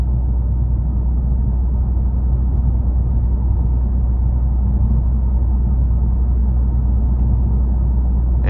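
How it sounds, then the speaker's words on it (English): Inside a 2021 Toyota Camry TRD with a 3.5 V6 cruising a back road, a constant loud low cabin drone of road noise blends with a steady deep exhaust rumble, unbroken throughout. "Road noise isn't overly intrusive. You still have that slight rumble from the exhaust."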